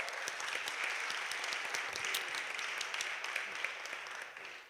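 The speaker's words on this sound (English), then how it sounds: "Could we give her a round of applause, please?" Audience applause at a city budget town hall meeting, a steady dense patter of many hands clapping that holds for several seconds and tapers off at the end, heard at moderate distance.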